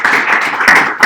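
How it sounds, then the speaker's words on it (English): A brief, close burst of audience clapping for a speaker at an exhibit of C.H. Rockey portraits, lasting about a second. "So please give us a little applause for David."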